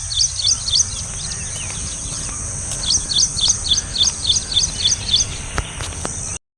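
Bursts of high, rapid bird chirps repeat in quick runs over a constant insect drone in open paddy fields, fairly close and clear.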